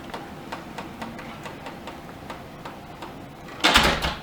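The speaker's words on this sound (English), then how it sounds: "check out what Lucy does with the door immediately when you walk in" A door swings shut on its own in room 401 of the Stanley Hotel. Faint regular ticks lead up to a sudden, louder thud near the end.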